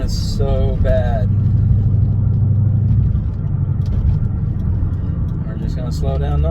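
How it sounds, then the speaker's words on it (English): Lexus LS400 with an aftermarket exhaust droning steadily at cruising speed, a constant low rumble filling the cabin throughout, with brief voices heard over it. "I love my exhaust. I love the way my car sounds, but man, when you're traveling in this thing, that drone is so bad"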